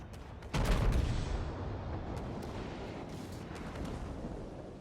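Warship secondary guns booming in World of Warships, a heavy blast erupting after a short lull and rolling into a dense, continuous rumble of distant naval gunfire.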